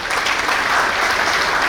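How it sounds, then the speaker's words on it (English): Applause for the organizing team at a 24-hour college hackathon: a dense, steady burst of crowd clapping indoors, loud and continuous throughout with no breaks. "So big round of applause for the organizing team."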